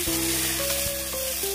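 Chowmein is lightly fried in a hot wok, a dense continuous sizzle close by with faint stirring throughout and no voices.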